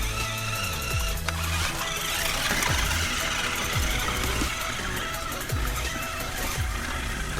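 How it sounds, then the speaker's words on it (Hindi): Motor of a remote-control Ford 3600 model tractor dragging a PC hard disk, a loud continuous whirring drone with repeated pitch swoops as the load drags and scrapes, no voices. "ट्रैक्टर भी अभी खींच के ले जा रहा है।"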